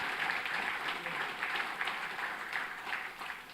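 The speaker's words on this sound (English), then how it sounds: "Now I'd like everyone to give another round of applause for the PhD advisees." A crowd at a university graduation ceremony applauds steadily and continuously, a dense wash of clapping that holds at an even level throughout.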